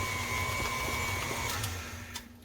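An electric mixer with a beater whirs through batter, a steady motorised drone with a tonal whine that drops away near the end, no talking.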